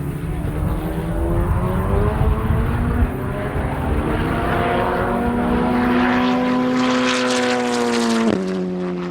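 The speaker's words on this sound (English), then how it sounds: "where he can get on the throttle and where he needs to feather it just a bit more, as that turbo boost can come on in a hurry" Turbocharged open-wheel race car engine at a Formula Regional Americas race at NOLA, loud and sustained near, pitch climbing steadily under throttle, then dropping sharply for a downshift near the end.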